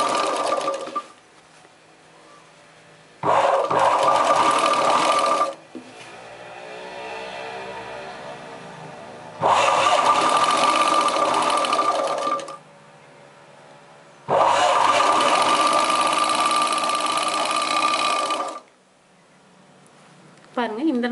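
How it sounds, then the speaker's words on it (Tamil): Sewing machine running in bursts as it stitches a second seam alongside an existing one on a chudidar top, with three or four loud, sustained runs of whirring separated by pauses where someone speaks. "இந்த தையலை ஒட்டியே, அதாவது ஆல்ரெடி போட்டிருக்கிற தையலை ஒட்டியே ரெண்டாவது தையலும் நீங்கள் போட்டுக்கோங்க"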